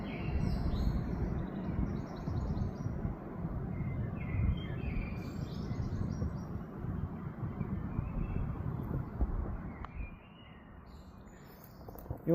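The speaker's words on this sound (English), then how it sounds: "Blackbirds, wrens and robins." Blackbirds, wrens and robins sing beside the Leeds and Liverpool canal between Altham and Huncoat; scattered chirps and calls ring out above steady, rumbling wind noise on the microphone, fading slightly near the end.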